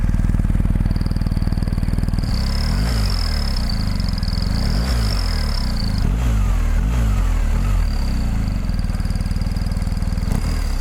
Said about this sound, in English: It not only makes it quieter, it just sounds like a whistle.